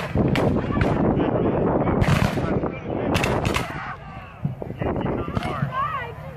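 Civil War reenactment battle with gunfire and artillery, sharp loud reports and bursts recurring across the field under a narrator's voice and wind noise.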